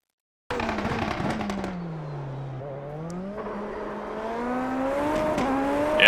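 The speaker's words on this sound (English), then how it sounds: "we just got the wheels spinning there" Open-wheel Super Formula race car in the iRacing sim at Red Bull Ring, engine droning steadily then rising in pitch as the wheels spin up, a continuous close whine with no talk.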